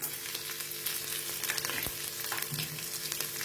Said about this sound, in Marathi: हे चांगलं परतून घ्यायचे।